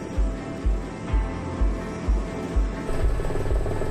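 A helicopter climbing toward its maximum altitude of 23,000 feet in thin air, its rotor thudding in a steady, regular beat of low pulses about twice a second over a constant engine roar.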